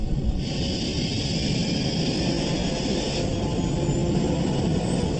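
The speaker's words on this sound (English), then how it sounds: "At a speed of 140 knots, Rotate. the pilots lift the plane off the ground." An airliner roars down the runway in thick fog, lifting off at 140 knots, a loud, steady, unbroken engine rush that holds for several seconds.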